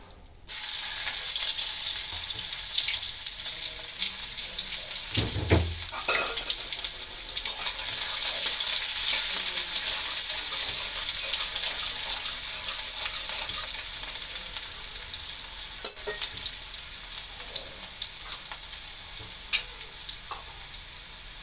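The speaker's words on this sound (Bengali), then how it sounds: "পেঁয়াজ ভেজে নেব" Onions sizzle steadily in hot oil in a wok, a continuous crackling hiss, with a brief clatter of stirring partway through.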